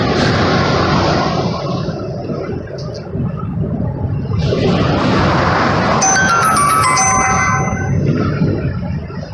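Heavy, loud traffic roars steadily past on an interstate highway during a protest, close by and continuous, with a bell-like ringing tone near the end.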